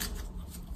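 Oracle cards being shuffled for a reading, a brief soft riffling and swishing of cards close by, quiet and continuous with no speech.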